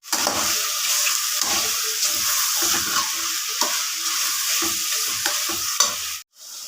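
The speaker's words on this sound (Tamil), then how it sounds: "மஷ்ரூம் வதங்கினதும் அதுக்கு தேவையான அளவு மிளகாத்தூள் சேர்த்து நல்லா கிளறி விடணும்" Mushrooms and chili powder are stirred in a pan, loud sizzling broken by rhythmic scraping strokes of a spoon, ending with a short clatter and a moment of quiet.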